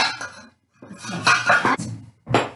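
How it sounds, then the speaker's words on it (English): Metal pot lids are lifted off cooking pots of plain white rice and other dishes, giving close clanks and clattering scrapes separated by a short pause. "So we're going to take those lids off."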